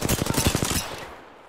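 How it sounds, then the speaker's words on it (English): Bow bots in a video game firing a rapid burst of gunfire, about a dozen quick loud shots in under a second, then a fading tail. "Bow bots are shooting at me."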